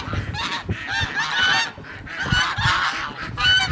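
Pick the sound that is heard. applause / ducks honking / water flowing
ducks honking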